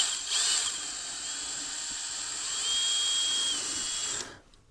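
A power drill whines steadily as it bores at an angle into a bolt area on a 2015 vehicle for a PCV crankcase ventilation hack, one continuous close, high-pitched run with a slight rise in pitch before stopping.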